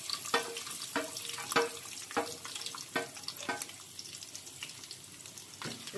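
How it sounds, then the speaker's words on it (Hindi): Garlic and asafoetida fry in a pan for dal dhokli, with faint sizzling under a series of sharp clinks and scrapes from a stirring utensil at irregular intervals, close and quiet. "इसको भून लेते हैं।"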